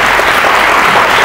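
A crowd at a Thai football event promoting ties with Leicester City and Buriram gives loud, steady applause, a dense wash of clapping filling the short moment without pause.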